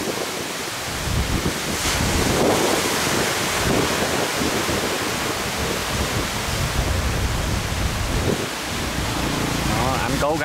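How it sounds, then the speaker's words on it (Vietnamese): Stormy sea waves and gusting wind roar continuously around a high-speed ferry running between Phu Quoc and Rach Gia, a loud, unbroken rushing wash with wind buffeting the microphone. "Mọi người nhìn cái lượng sóng là thấy cảm thấy là thật là đáng sợ rồi ha."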